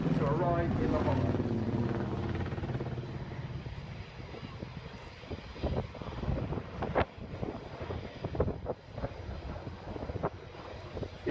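Apache attack helicopter performing a 360-degree quick stop into a hover at an airshow, rotor and engine roar loud at first then fading, with choppy blade thumps and gusty wind under a voice describing the display.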